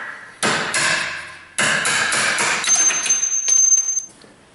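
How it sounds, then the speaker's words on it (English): A hammer strikes a brass punch to drive out a bolt on a Hyundai Sonata's rear suspension, two sharp metallic blows with ringing decay followed by a cluster of quicker taps and a faint high metallic ring. "Use a brass punch and a hammer to finish driving out this bolt."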